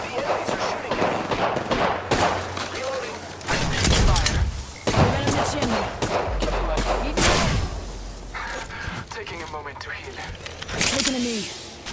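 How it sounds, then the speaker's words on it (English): Enemy gunfire in a shooter video game, bursts of rapid shots and thuds crackling in and out over several seconds, mixed with game effects while a player talks throughout. "The enemies are shooting at me."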